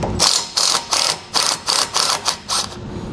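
A ratcheting socket wrench with a 13mm socket drives a screw while installing Air Lift LoadLifter 5000 air helper springs on a 2018 Ford, giving close, loud, rapid rhythmic clicking strokes, about ten in quick succession.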